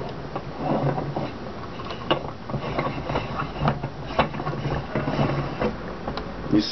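An ice chiller is screwed onto a hookah, making a quiet run of rasping, clicking twists of plastic threads turning against each other.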